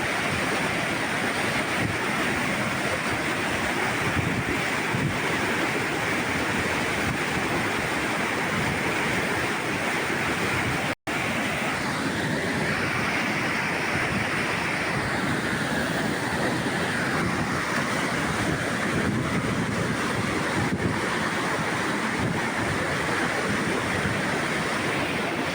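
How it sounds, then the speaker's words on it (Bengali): Water pours from the overflow channel of the Colonel Singh reservoir as a monsoon waterfall, a loud, continuous broadband rush that fills the whole span with no voices. "বর্ষাকালে বা একটানা বৃষ্টিপাতের পর যোগ হয় এই ঝর্ণা"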